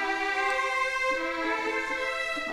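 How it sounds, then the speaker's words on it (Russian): Sampled violins from an orchestral library, played on a MIDI keyboard, hold a sustained chord with rich, steady string harmonics and no other sounds. "Вот как звучат скрипки."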